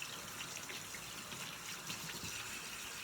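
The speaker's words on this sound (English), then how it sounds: "Then you're going to turn off the water with the paper towel." Tap water runs steadily into a sink during handwashing, a continuous close gush with no talking.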